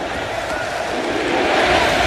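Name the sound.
football stadium crowd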